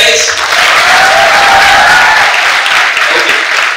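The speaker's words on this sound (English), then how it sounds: "So let's clap louder, guys." Audience applause at the inauguration of an inter-state rap and beatbox competition in a college, a dense, loud sustained wash of many hands clapping that fades slightly toward the end, with a voice faintly under it.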